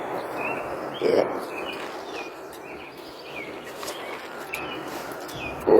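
Faint bird chirps over a steady outdoor rush of a nearby waterfall, with a couple of brief louder sounds nearby.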